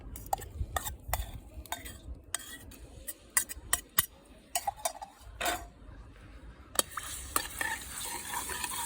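Garlic frying in a pan for fried liver with garlic, a steady sizzle broken by frequent sharp clinks and scrapes of a spatula stirring against the pan, close up, with no talk.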